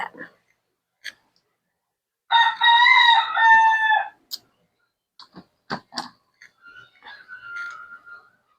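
A pet bird lets out one loud rooster-like crow lasting a couple of seconds, with scattered clicks and a few soft chirps around it in an otherwise quiet space.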